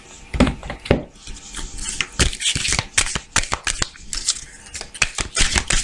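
Tarot cards are shuffled and drawn for a card reading, a series of sharp papery riffles and flicks in uneven bursts, close and fairly loud, with no talk over them.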